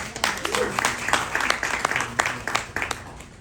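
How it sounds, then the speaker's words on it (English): Audience applause at a panel event on US-Pakistan relations: a steady round of clapping from a mid-sized crowd, dense and continuous for the whole stretch, at moderate loudness with no talk over it. "a round of applause"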